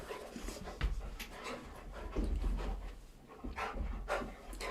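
Several dogs panting heavily and shuffling around indoors in the early morning, with rapid rhythmic breaths, scrabbling and rubbing movements, close and fairly loud throughout.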